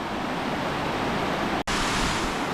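Rushing river water in Otley in the Yorkshire Dales makes a steady, loud broadband roar that fills the clip, broken only by a brief dropout near the end, with no voices.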